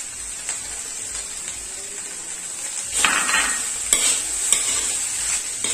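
Fried rice stirred in a hot pan as sweet corn goes in, a continuous sizzle with louder clattering scrapes of the spatula in the second half, close by.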